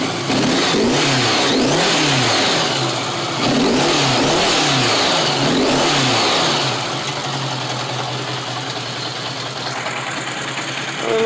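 A high-mileage Honda GL1100 motorcycle engine, run before a carburetor sync, revs up and down in repeated loud surges over a steady running drone, close to the microphone.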